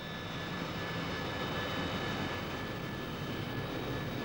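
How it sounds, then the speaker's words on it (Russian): A jet airliner taxiing across a road on Nauru gives a steady, droning engine whine with a faint high tone, holding an even level without pause. "Реактивные аэропланы пересекают ту же дорогу, что и пешеходы."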